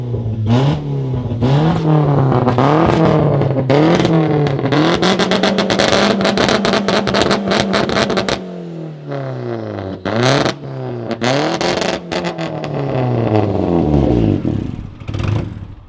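A loud turbocharged Audi A4 engine revs hard again and again, pitch sweeping up and down with rattling pops and clatter, close by with no talking.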